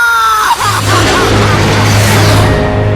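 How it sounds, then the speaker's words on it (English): A distant, wavering scream of terror rises amid a roaring, burning city in the Ace Combat 6 video game, layered over a steady low drone and dense background rumble. "I vaguely hear a scream of terror that sounds much like my own voice from afar"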